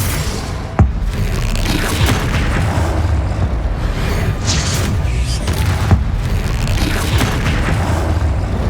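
A Confringo blasting spell detonates in Hogwarts Legacy, one sharp boom near the start followed by a steady, dense rumble of combat noise with a few softer thuds scattered through the rest.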